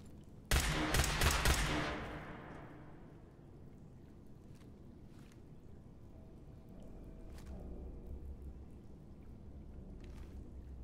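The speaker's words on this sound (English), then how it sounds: "Shooting Vanny, quit shooting Vanny, I swear." Gunfire in Fallout 4 opens with a loud rapid burst of automatic shots lasting about two seconds, fading into a rumbling ambient wash with a few scattered faint distant shots afterward.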